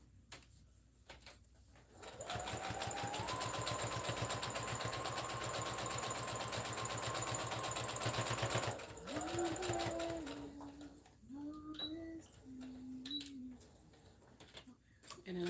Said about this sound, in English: And then of course I back stitch when I get to the end.